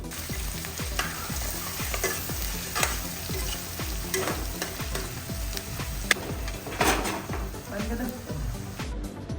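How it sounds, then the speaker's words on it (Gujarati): Chopped green chillies and finely chopped onion frying in hot oil for a Kathiyawadi onion and garlic curry, with a steady loud sizzle and regular rhythmic stirring strokes scraping the pan throughout. "આપણે મરચાંની કટકી અને ડુંગળીની ઝીણી કટકી નાખી દઈશું તેલમાં"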